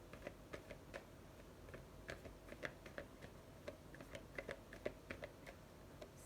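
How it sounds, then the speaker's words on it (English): Tarot cards being shuffled by hand, a quiet run of crisp, irregular clicks and flicks, close and faint with no talking. "I'm going to shuffle to get one card,"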